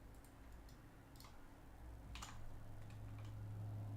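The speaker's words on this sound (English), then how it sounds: "Just spam clicking everything to make sure I don't miss anything." A computer mouse clicks repeatedly while someone plays a crime-scene investigation game: a handful of faint, irregular clicks over a quiet low hum.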